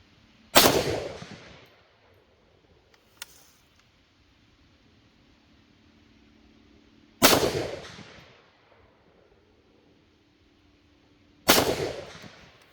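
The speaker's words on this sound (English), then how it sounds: "Fire 3 more rounds using this Crossfire." A JLD PTR 91K rifle fires Federal 150 grain full metal jacket brass-cased rounds outdoors: three loud, sharp shots spaced several seconds apart, each with a decaying echo, plus a faint click between the first two.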